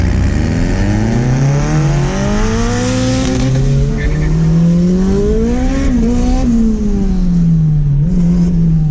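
A turbocharged B20V-powered Honda Civic accelerates hard from inside the cabin, its engine note climbing through rising harmonics in repeated pulls with brief dips between gears, loud and continuous throughout.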